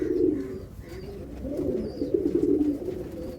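A Madrasi Kalanka pigeon coos in low, rolling, repeated phrases, close and steady, with a few faint higher chirps behind.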